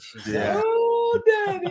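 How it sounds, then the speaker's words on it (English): A female Labrador whines in long, rising and falling high-pitched cries close by, with someone talking over and between the whimpers. "My baby girl Lab over here is just whining at me."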